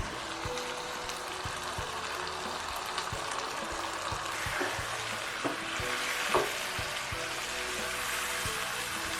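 Chicken sizzles and fries steadily in a pan after half a cup of yogurt goes in for a gobhi chicken curry, with a broadband hiss throughout and a few brief stirring clinks near the end.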